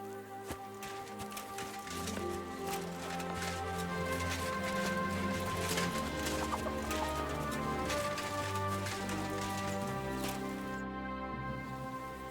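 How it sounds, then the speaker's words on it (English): Horses clip-clopping around a fortress stable in the medieval game Kingdom Come Deliverance 2, a steady clatter of hooves mixed with ambient music and background noise throughout. "Lovely horses you have here."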